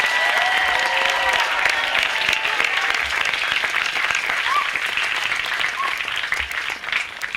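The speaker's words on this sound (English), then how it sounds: "Can we give Ms. Cleary a big round of applause, please?" A school graduation audience claps for Ms. Cleary in a loud, sustained round of applause that carries on steadily, with a few faint voices rising from the crowd.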